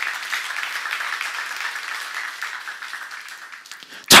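A church congregation claps together in applause during a sermon, a steady, fairly loud wash of many hands with no voices over it.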